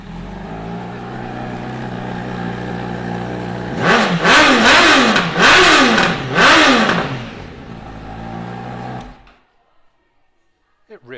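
A sporty motorcycle with a quick shifter starts up and idles. Its engine is blipped in three sharp, loud revs that rise and fall, then settles and cuts off into near silence.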